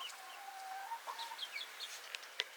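Chickens, including a large white hen, cluck and chirp softly in a barnyard, with short scattered calls at moderate distance and no talking.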